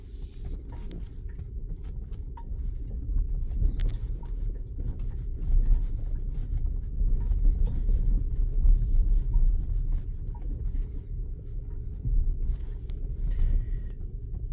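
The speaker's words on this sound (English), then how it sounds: "I just crawl up these snowy, icy hills like nothing." A heavy battery-powered 10,000-pound truck crawls up snowy, icy hills, giving a steady low rumble with tire and body noise close by, mostly even with slight swells, and no talking.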